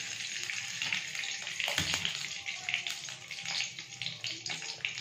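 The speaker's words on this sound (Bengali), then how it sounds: "এবার এর মধ্যে দিয়ে দেবো মাছ ভাজার জন্য প্রস্তুত তেল।" Oil poured into a hot kadai for frying fish hisses and sizzles steadily, a broad crackling hiss with a sharper splash near the middle, close and fairly loud with no talking.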